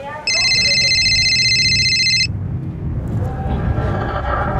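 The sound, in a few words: telephone ringing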